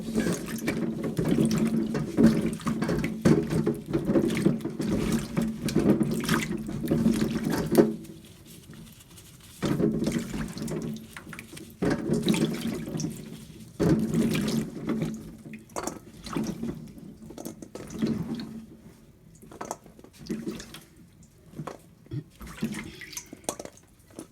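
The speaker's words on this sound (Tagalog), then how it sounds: "hugasan ng mabuti ang marble potatoes or young potatoes or baby potatoes." Marble potatoes washed under running tap water in a sink, a steady splashing stream broken by short pauses and changes as the potatoes are handled, close and alone with no talk.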